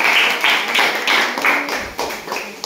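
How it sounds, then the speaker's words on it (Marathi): Schoolchildren clap together to welcome their school's student president at an assembly, producing a dense, steady patter of many hands that swells and dips in waves, loud and near, with no talk over it. "टाळ्या वाजवून आपल्याला स्वागत करायचं"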